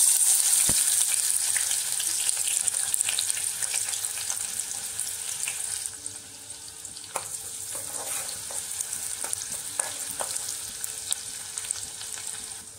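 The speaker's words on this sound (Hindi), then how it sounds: "तेल गरम झालेलं आहे, त्यात मी कांदा घालते" Onion frying in hot oil in a pan: a loud, steady hiss of sizzling throughout, with occasional faint stirring clicks and taps, no voices.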